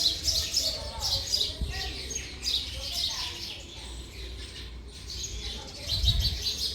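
Two sparrows near a house give bursts of high chirping that come and go in clusters, fairly close, with a little household noise and talking underneath.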